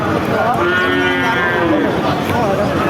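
A cow moos loudly and close by in a long, drawn-out low call, with a second bellow near the end over a busy crowd murmur at a cattle market in Chaugachha, Jessore, Bangladesh.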